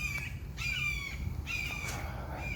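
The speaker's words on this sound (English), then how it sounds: "The hawks are loud out here," Red-shouldered hawk calling in a garden, three loud harsh repeated screams spaced about a second apart, carrying clearly over quiet outdoor background.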